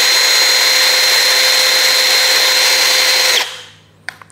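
A Milwaukee M12 Fuel Gen 3 brushless impact driver drives a roofing screw: a loud, steady high-pitched whine held for over three seconds, then cutting off abruptly, followed by a couple of faint clicks.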